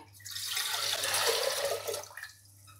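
One litre of water pours steadily into a pot with a rushing hiss that builds, holds for a couple of seconds, then tapers off. No one speaks.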